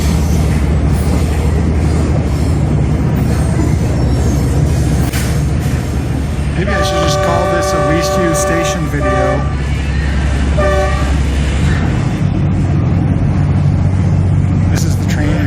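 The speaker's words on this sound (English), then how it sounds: "This is the train in motion." A Tren Interurbano train in motion, heard from inside with a loud steady rumble of wheels and running noise, a sustained horn tone sounding midway, and someone speaking over it.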